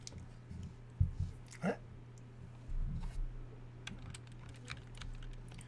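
Computer keyboard typing comes in a few scattered clicks and short bursts, fairly faint and close, over a low steady hum while a person talks at times.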